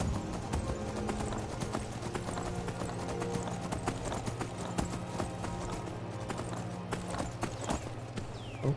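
Horse hooves clip-clop steadily and fairly close in the Skyrim video game, in a quick, even rhythm with a low rumble underneath that holds through the whole stretch.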